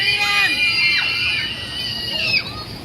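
Crowd of an amusement park show audience screaming loudly together on a count, a shrill massed shriek of many voices and children that swells, wavers and fades over a few seconds.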